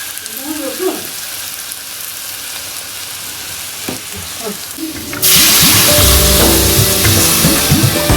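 Hing and besan (gram flour) are sautéed in a pan: a sudden loud, close sizzle bursts in partway through, following quieter stirring and clinks.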